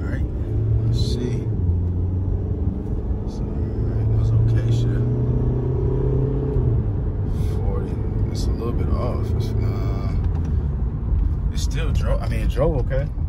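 A cheap used vehicle from a dealer-only auction rumbles along on a test drive, its engine a steady low drone with road noise and occasional clicks as people talk inside the cabin.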